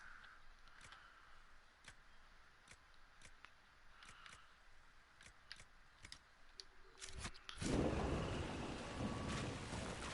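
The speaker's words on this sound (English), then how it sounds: "Just lightning, probably." Thunder from a storm in Dragon Age: Inquisition rolls in as a sudden, loud, broad rumble after a stretch of faint ambience with scattered light clicks, then keeps roaring steadily to the end.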